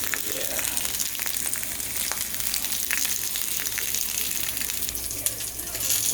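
Italian sausages fry in a pan with a dense, continuous sizzle and crackle that runs steadily throughout, fairly close and loud.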